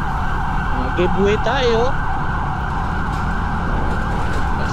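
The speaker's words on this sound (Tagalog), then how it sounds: "ganyang ambulansya" Ambulance siren on a road heard from a motorcycle, a wailing tone rising and falling briefly over constant engine and wind roar, with a voice speaking over it.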